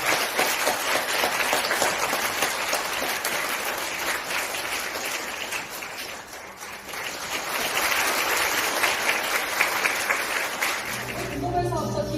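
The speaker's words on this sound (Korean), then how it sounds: "사장님을 무대 위로 모시겠습니다. 큰 박수 부탁드립니다." Sustained audience applause fills a Korean corporate event hall as the K-water CEO is welcomed onto the stage, loud and steady for about eleven seconds before tapering off.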